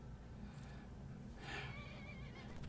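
A horse in the video game Skyrim, summoned by a horse call power, lets out a single clear neigh and whinny about halfway through, faint and moderately distant over a low background rumble.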